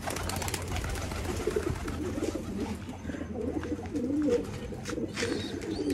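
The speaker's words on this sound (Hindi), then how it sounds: "चल भाई, इस कबूतर को लग रहा है ऐसी कबूतरी अब भी बाहर ही घूम गए।" Pigeons coo close by in their coop, a low, repeated throaty burbling that runs steadily with a few brighter calls mixed in.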